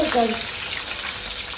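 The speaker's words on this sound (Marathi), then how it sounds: "आपला तेल गरम झालेला आहे आपण पहिला कढीपत्ता टाकून त्याला आता कढीपत्ता टाकलेला आहे मी मिरची टाकून घेते" Leaves and chillies sizzle and crackle sharply in hot oil, a brief bright hiss with a voice heard at the start.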